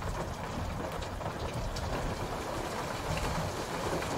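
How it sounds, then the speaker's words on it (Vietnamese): Heavy rain pours outside in the horror game Night Security, a dense, steady wash of noise heard alone and unbroken throughout. "Bên ngoài mưa khá là to."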